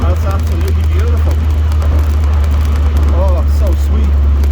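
Loud, steady engine rumble from a running 1978 MGB Roadster, with a low throaty drone and faint voices chattering over it.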